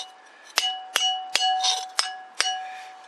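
A hammer strikes a steel wheel hub during grease and axle seal replacement, ringing with about six sharp metallic clangs, evenly spaced and close, each leaving a short bright ring.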